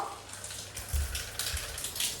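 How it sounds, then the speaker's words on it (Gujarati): Light rain falls at night on a town street, a soft, steady hiss of drops with a few louder low splashes and spatters, heard alone with no voices. "પણ અત્યારે વરસાદ ચાલુ છે થોડો થોડો"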